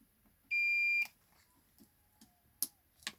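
A single steady electronic beep of about half a second from a multimeter testing a Dyson HD02 thermal fuse, followed by faint clicks and handling noises.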